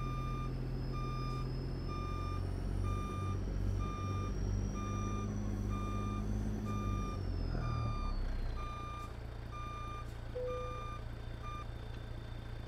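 A truck in American Truck Simulator, a 379 model, backs up with a steady series of evenly spaced reversing beeps over a continuous low engine drone that eases partway through, with no talking.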